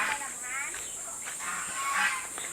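Goose honks ring out over a steady outdoor hiss, a few nasal calls at moderate distance with faint voices in the background.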